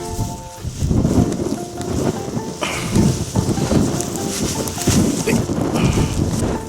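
Tent fabric flapping and buffeting in strong wind outdoors, a loose, continuous rushing and rustling roar with irregular gusts across the whole stretch.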